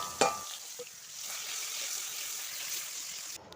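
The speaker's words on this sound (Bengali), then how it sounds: "চিংড়ি মাছটা এখন আমি তেলে দিয়ে ভালো করে ভেজে নেব" Shrimp frying in hot oil makes a continuous, close sizzle, opening with a sharp clatter and a brief knock, then hissing steadily until a clunk near the end.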